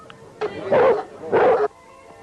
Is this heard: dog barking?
yes